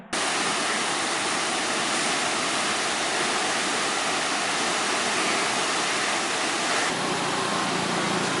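Swollen river water rushing hard after heavy monsoon rain in Kerala, a loud, unbroken broadband roar that stays close and steady with no voices.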